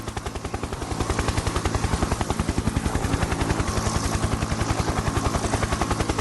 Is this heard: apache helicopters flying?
yes